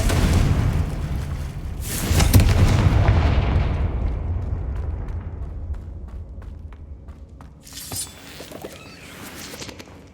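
A Confringo spell explosion in Hogwarts Legacy, a loud booming blast with a long rumbling tail that fades slowly, followed by smaller crackling bursts near the end.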